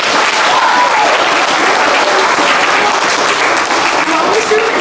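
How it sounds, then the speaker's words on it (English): Steady, loud audience applause fills a school wellness center ribbon cutting, a dense wash of many hands clapping that holds evenly throughout, with faint voices mixed in. "Can I have a round of applause for them?"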